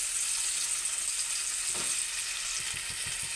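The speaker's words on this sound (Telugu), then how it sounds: "నూనె అయితే గుడ్లు వేసుకున్నాం కదా, మరిగే ఉంటుంది కదండి. ఉల్లిపాయలు అయితే బేగానే మగ్గిపోతాయి." Chopped onions frying in hot oil left over from frying eggs, a steady close sizzle throughout with a few soft stirring scrapes near the end.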